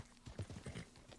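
Horse hooves clip-clopping in Red Dead Redemption, a quick run of soft, rhythmic thuds at close range, briefly rising and then settling, with no voices over them.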